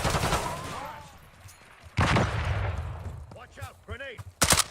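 Close bursts of automatic gunfire in a Call of Duty Black Ops 6 match, with loud volleys at the start and middle and sharp shots at the end, while players talk over the action between bursts.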